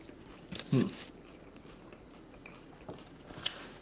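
A bite into crunchy pizza topped with Fritos, a single close crunch followed by a few faint chewing sounds in a quiet room.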